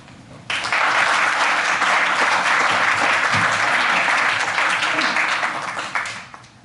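Audience applause rises abruptly to welcome a speaker at a lecture on Christianity and Islam, a dense, loud, steady clapping from a full room that holds for several seconds before tapering off.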